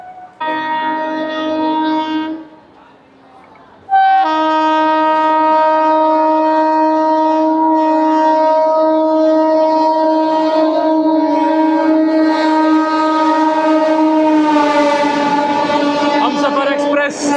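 A Humsafar Express running from Anand Vihar to Gorkhapur sounds a long, loud sustained horn, with a brief dip near the start before the steady tone resumes and holds.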